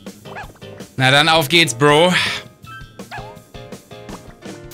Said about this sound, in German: Und jetzt kommt ja auch noch der Hund.